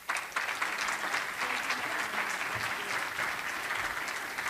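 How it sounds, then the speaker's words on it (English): Applause from the audience at a Boston Public Schools valedictorians luncheon, a sustained, even crowd of clapping hands heard at moderate distance, filling the whole stretch without talk. "One more round of applause for Mayor Wu."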